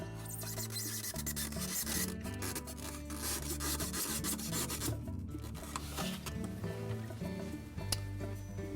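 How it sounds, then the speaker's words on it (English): A styrofoam block is pushed back into an opening inside a GE refrigerator during a lid bumper repair, making quiet, close rubbing and squeaky scraping sounds that continue throughout. "we'll reinstall the styrofoam block"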